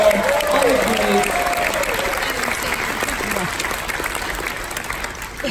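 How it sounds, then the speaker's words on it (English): A guest choir audience on board a cruise ship gives a big round of clapping for its accompanists. The applause starts loud and slowly fades, with a voice speaking over it near the start. "a massive round of applause for our accompanists"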